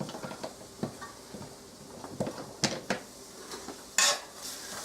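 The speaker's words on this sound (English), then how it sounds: "Move them around because I don't want too many onions in here." A spatula scraping and knocking against a frying pan as onions are pushed around with potatoes, making irregular clattering strokes over a low sizzle, with a louder scrape toward the end; no talk.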